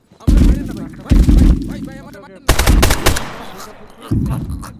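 Gunfire in the Bangladeshi shooter video game Zero Hour: loud, close bursts of rapid automatic fire, three or four volleys separated by short gaps, with a player's voice talking during the action.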